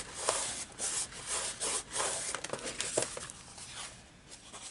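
Paper pressed and smoothed down by hand onto a pop-up album page, giving soft continuous rubbing and brushing strokes with a few light taps, close and fairly quiet, no voices.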